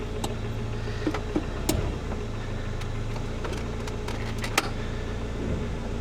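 A Saab that has just been fixed creeps forward in gear, with a quiet low engine hum broken by scattered light clicks and knocks.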